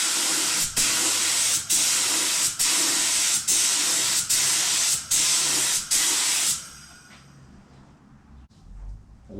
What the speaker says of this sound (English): we'll just on this rag have a bit of a test spray